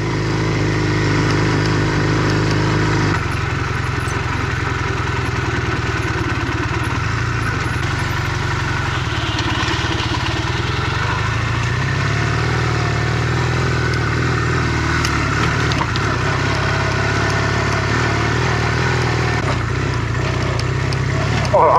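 A motorbike rides along a road in Thailand, its engine droning steadily and loud throughout, with wind rumble and a rider talking over the noise.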